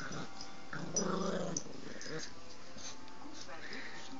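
A dog growls while biting a person's foot, low rumbling snarls in short bursts up close, mixed with a person talking.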